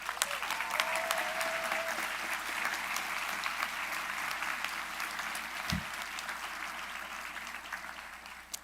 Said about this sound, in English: Let's give one final round of applause to these graduates.